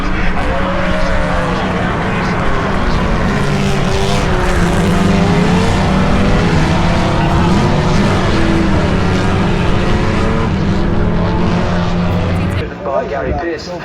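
Classic race cars roaring around Silverstone during a festival race, a dense, loud blend of engines revving and shifting pitch nearby, with a commentator talking over the continuous noise.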